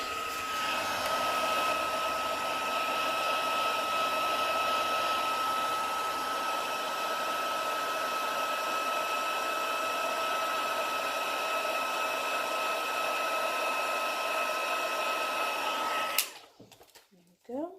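A heat tool blows steadily and loudly for about sixteen seconds while it melts white embossing powder on vellum, then it cuts off and brief handling noises follow.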